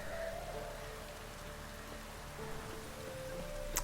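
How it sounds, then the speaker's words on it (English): Rain falls in The Witcher 3 on Xbox Series X as a soft, continuous hiss of drops, quiet and even, with no voices over it. "No, it's still raining."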